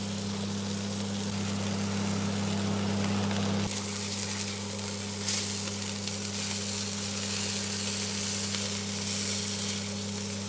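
Hamburger patties frying in a pan give a steady, close hiss and crackle of sizzling fat, with a constant low mechanical hum underneath and no talking.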